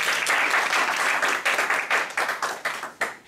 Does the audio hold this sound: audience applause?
yes